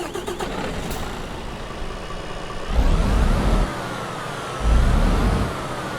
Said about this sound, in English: today we're using a Detroit DD16 engine in this Western Star. So let's get it started up